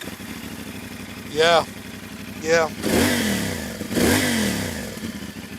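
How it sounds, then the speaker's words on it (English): A CF 450SR motorcycle on its factory exhaust is blipped twice in quick, loud revs that rise and fall, then settles back to a steady idle; someone speaks briefly before the revs. "the one thing that you guys haven't heard yet, and that is the exhaust note on this thing."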